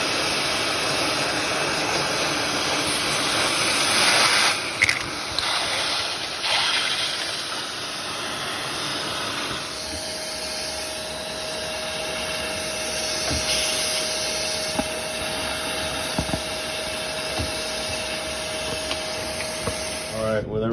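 A Shark vacuum cleaner sucks lint out of a gas clothes dryer, its loud steady whine and rushing airflow running throughout, shifting in pitch as the nozzle moves. A voice speaks faintly underneath.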